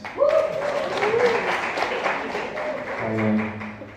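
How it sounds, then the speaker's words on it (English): Audience applause at a comedy roast, a broad clatter of clapping that holds steady across the clip, with a speaking voice riding over it near the start and a sustained tone toward the end. "Round of applause to your divorced parents."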